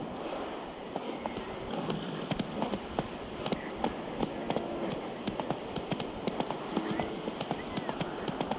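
Roach the horse running in The Witcher 3, a continuous rhythmic clip-clop of hooves at a steady pace, close and fairly loud over a constant rushing ambience.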